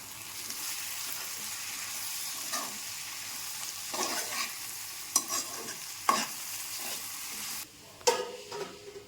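Spices and tomatoes are stirred in a pan over a soft background sizzle, with a few sharp utensil scrapes and taps at irregular intervals.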